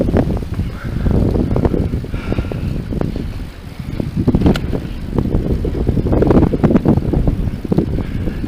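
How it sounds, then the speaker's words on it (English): Constant rough wind buffeting a covered microphone during a long bike ride in strong headwinds, a loud low rumble with gusty swells throughout and no clear speech. "I put it over the microphone, hopefully to drown out more of the wind."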